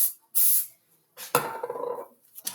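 Cooking spray misted onto pie crust shields in a kitchen, two short close hissing bursts separated by quiet, followed by clattering handling noises.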